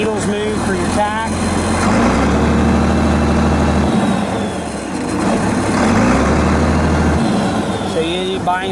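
A 1975 International Farmall 1066 turbo diesel tractor idles with a steady low rumble, close and loud, while someone talks over it throughout.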